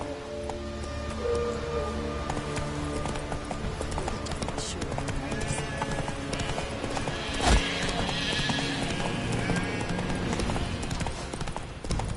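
Roach the horse galloping in The Witcher 3, with steady clip-clop hoofbeats, a whinny, and game music and ambience running throughout.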